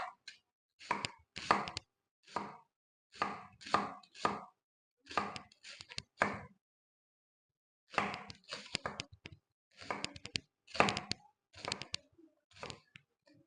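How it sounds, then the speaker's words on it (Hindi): Onions being finely chopped with a knife on a board: bursts of quick, crisp cutting strokes in rapid runs, separated by brief pauses, close and clear. "सबसे पहले हम प्याज काट लेंगे और बिल्कुल ब्रीक ब्रीक साइज में आपने प्याज काटना है"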